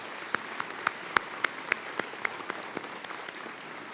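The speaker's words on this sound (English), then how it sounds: "Let's give the PHSC Foundation a round of applause" Scattered, separate handclaps at a spring commencement ceremony, roughly three to four per second, fairly faint and thin, as though only a few people in the hall are clapping.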